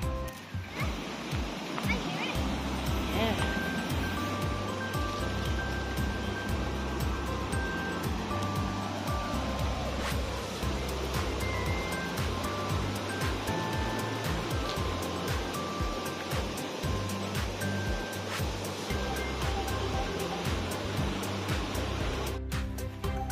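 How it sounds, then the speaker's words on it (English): Waterfall in the Hokonui forest at the Dunsdale picnic area, a steady broadband rush of falling water filling the whole stretch, with occasional nearby rustles and bumps over the top. "Can you hear the waterfalls, guys? I can hear it."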